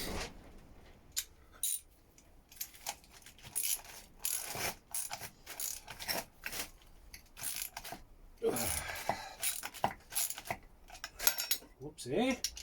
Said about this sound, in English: The socket set will get that on easy.